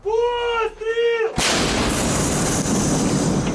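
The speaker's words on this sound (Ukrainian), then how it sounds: "чекаємо команду вогонь один вогонь, і ми стріляємо" A single heavy blast from a 2S1 Gvozdika self-propelled howitzer erupts after a short human voice, followed by a long roaring, rumbling decay that fills the rest of the clip.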